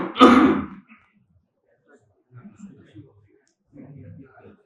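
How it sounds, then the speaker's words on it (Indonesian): A man gives a single loud cough and clears his throat at the start, followed by quieter murmuring speech. "batuk juga"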